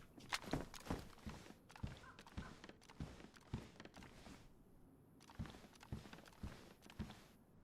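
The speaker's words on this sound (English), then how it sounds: "I'm wondering if I can hear some footsteps" Footsteps in the survival game DayZ, a quiet, irregular series of crunching steps over soft ground, faint and spread through the scene without voices.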